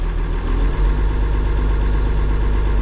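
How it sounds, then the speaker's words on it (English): An older tractor's engine runs at low idle with a low, even throb, close and continuous without any change in pace. "I like to let these tractors run on low idle for a while."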